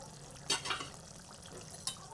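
Fish curry with winter vegetables is stirred in a pan over low to medium gas, giving a few soft scraping clicks over a steady low sizzle, close by and fairly quiet.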